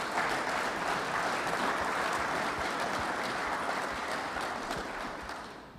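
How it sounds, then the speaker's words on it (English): An audience at an athletic director's introductory press conference gives sustained, dense applause that stays loud throughout and fades slightly at the end. "Let's give Garrett another round of applause."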